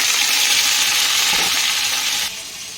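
Pointed gourd frying in hot oil left over from frying fish gives a loud, steady, close sizzle that holds evenly before dropping to a softer crackle near the end.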